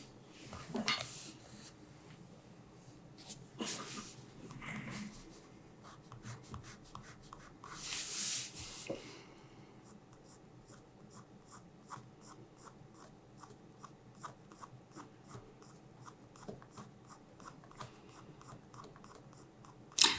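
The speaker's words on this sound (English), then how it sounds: "I'm just basically dumping and scribbling lines of paper to see how I can balance this creature out" Pencil scribbling on paper during a fantasy creature sketch, a quiet run of quick, rhythmic scratchy strokes with a few louder rubbing bursts early on, then steady light ticking strokes, no talk.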